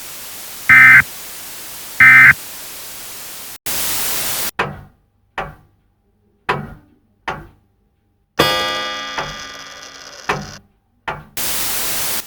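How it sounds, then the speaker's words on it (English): Two loud electronic emergency alert beeps, then harsh bursts of static and a series of sharp clicks and thunks, ending in another burst of noise. "it seems we just had an emergency alert go beeping at us"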